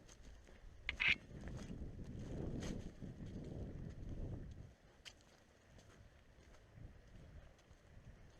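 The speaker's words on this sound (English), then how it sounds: "find a way to block off some of this wind" Wind buffets an outdoor microphone on an extremely windy point, producing a low, rumbling roar that swells for a few seconds and then eases into a quieter, gusty background.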